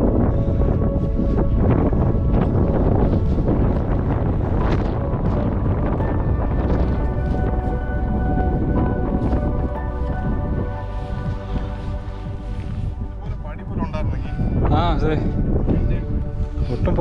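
Strong wind buffeting the microphone on a mountain hike with light rain, a loud continuous rumbling gust that runs the whole time while someone talks over it.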